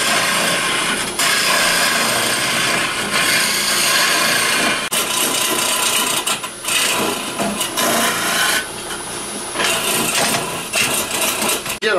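An HK58 hollowing tool carves out the inside of a small wooden vase on a lathe, giving a loud, steady, close scraping rasp that runs almost unbroken with brief dips and shifts in texture.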